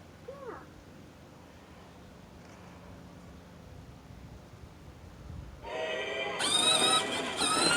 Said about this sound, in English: It makes its own train noises,